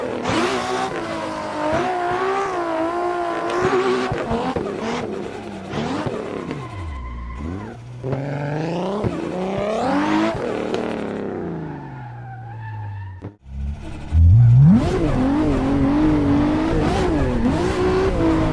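A Mustang in drift spec, fitted with a Nissan Skyline GTR engine of 650 horsepower, revs hard and shrieks its tires through long slides in Assetto Corsa. Engine pitch rises and falls repeatedly, loud and close, with a brief lull partway.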